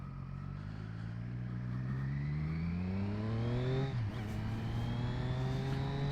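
A 2020 Triumph Street Triple RS motorcycle under way, its engine note climbing steadily through the gears with a brief dip, then rising again, loud and steady against wind noise.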